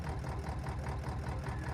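A space tractor engine runs in a video game, a steady droning hum with a low rumble, holding constant and fairly loud with no voices over it.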